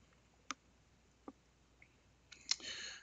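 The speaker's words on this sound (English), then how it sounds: "So let's click on here." A computer mouse gives a few sharp, quiet clicks spaced apart in a near-silent room, the last followed by a brief soft electronic tone.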